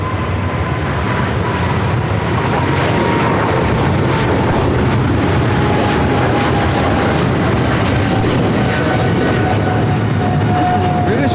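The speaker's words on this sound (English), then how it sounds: "This is British Airways 282 taking off to London Heathrow on the 777-300ER." A British Airways Boeing 777-300ER takes off from LAX bound for London Heathrow, its loud, dense jet roar filling the scene without a break and holding strong from start to end.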